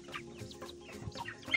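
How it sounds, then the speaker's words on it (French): An ornamental hen clucks in a series of short, soft, irregularly spaced calls, close by, with a faint steady hum in the background. "une belle petite poule"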